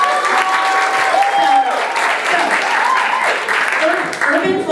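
An audience claps steadily through a live show segment, a dense continuous patter of hands with some voices and cheering mixed in beneath.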